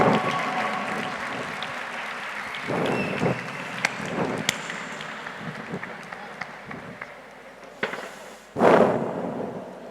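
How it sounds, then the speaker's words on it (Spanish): Applause from a school audience at a TED-Ed club talk, a broad wash of clapping under a room murmur, rising with a burst of louder cheering near the end. "Les pido por favor que recibamos con un muy fuerte aplauso a Cata."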